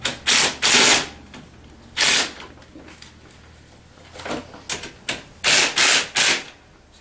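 Handlebar bolts on a TaoTao 150 Hummer ATV being snugged with a wrench, giving several bursts of quick ratcheting clicks separated by short pauses, close and fairly loud with no talking.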